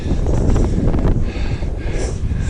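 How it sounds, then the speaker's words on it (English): Gusty wind buffets the microphone, a loud low rumble with rushing noise that rises and dips over a couple of seconds. "it's a bit windy today"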